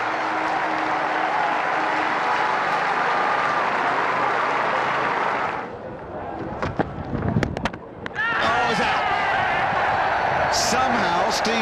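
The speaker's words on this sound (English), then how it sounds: "The majority of the crowd give him a good reception." Cricket crowd at a New Zealand versus England Test in Auckland applauding a departing batsman, steady loud clapping and cheering that dips briefly mid-way, with scattered whistles and shouts, then swells back up to sustained applause.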